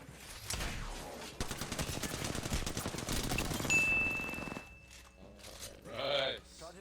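Rapid automatic gunfire from an Apex Legends firefight bursts in loud, dense volleys for several seconds. It then cuts off, leaving a sustained electronic tone and a short swelling game effect.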